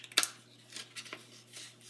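Scissors trim paper for a 12-by-12 scrapbook page layout, making a few quiet, crisp snips in short separated strokes, close and faint with no talk over them.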